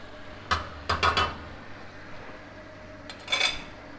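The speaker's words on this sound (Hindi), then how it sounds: "और इसको थोड़ा मिक्स करेंगे यहाँ पे।" Spoon scraping and clanking against a pot while beef karahi masala with white pepper powder is stirred, with several sharp metallic knocks in quick clusters amid quieter cooking sounds.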